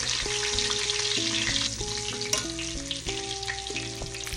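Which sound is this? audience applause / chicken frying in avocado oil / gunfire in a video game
chicken frying in avocado oil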